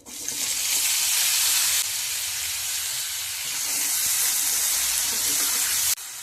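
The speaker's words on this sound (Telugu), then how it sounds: "ఆలు ముక్కలు కూడా వేగాలండి మంచిగా కొంచెం కలర్ మారే వరకు ఫ్రై చేయాలండి" Potato pieces frying in a kadai until they colour: a loud, continuous sizzle and hiss that holds steady, then cuts off abruptly near the end, with no talking.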